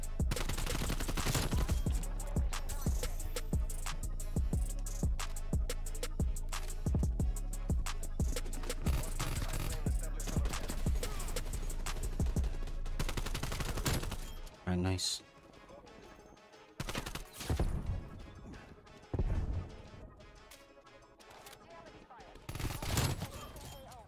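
Rapid pistol gunfire in the shooter game Call of Duty Cold War, dense bursts of sharp shots in the first half, then scattered shots and game effects, with a player talking over it.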